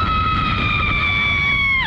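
Riders scream on the Tidal Surge, a ride reaching 135 feet in the air at SeaWorld; a sustained, loud, high-pitched scream holds steady for nearly two seconds, then drops off at the end over a background rumble.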